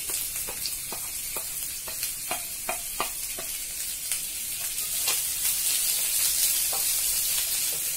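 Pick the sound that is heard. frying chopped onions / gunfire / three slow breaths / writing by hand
frying chopped onions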